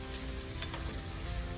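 Carrots, pumpkin and other vegetables fry in oil in a pot, giving a steady close sizzle with a few faint stirring clicks and no talking.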